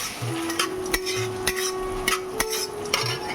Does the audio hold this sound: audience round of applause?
no